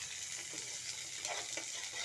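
Chopped onions fry in a pan over a cumin tempering, giving a steady, close, crackling sizzle with small spits and pops. No one talks over it.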